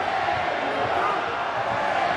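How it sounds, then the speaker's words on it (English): A rugby stadium crowd roars in support of Edinburgh during a match against the Emirates Lions, a dense, steady wash of cheering with a commentator talking over it. "Now the crowd trying to do their bit."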